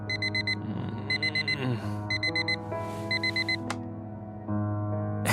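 An alarm clock in the game Fragments Of Him rings in four bursts of rapid electronic beeps, each group a quick repeated pattern, over a soft sustained musical background.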